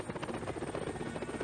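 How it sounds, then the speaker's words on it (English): A recovery helicopter from the carrier Iwo Jima at an Apollo splashdown gives a steady, continuous rotor chop with a buzzing drone, moderately loud and unbroken. "Helicopters from the carrier Iwo Jima lifted the astronauts from Odyssey."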